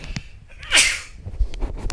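A single sharp sneeze, short and fairly close, set against quiet room background.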